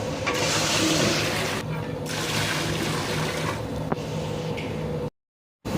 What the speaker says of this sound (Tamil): ஒரு கிலோ போட்டிங்கன்னா மூணு கிலோ தண்ணி ஊற்றணும்